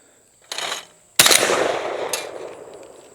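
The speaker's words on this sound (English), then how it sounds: "We'll just shoot 1 round, then flip the gun over and reload it." A wood-paneled CZ241 three-shot long recoil shotgun fires once: a brief sharp report, then a much louder, close blast that rings out in a long, slowly fading tail.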